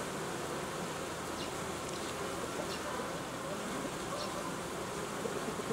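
Honeybees buzz at a hive entrance during anti-robbing work, a steady, dense, close swarm hum that fills the whole stretch without pause.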